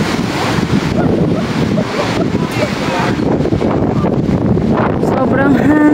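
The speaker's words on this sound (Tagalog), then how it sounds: "Sobrang hangin." Strong wind blowing across the open Yangmingshan grassland, a loud continuous buffeting roar striking the microphone close-up, with people talking over it.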